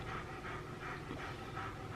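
A dog pants rapidly and loudly nearby, a steady rhythmic huffing with no talking.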